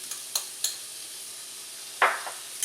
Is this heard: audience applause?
no